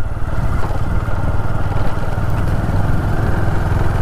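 A motorcycle rides slowly along an off-road jungle trail, its engine chugging with a steady, throbbing low rumble and a faint clatter close to the microphone.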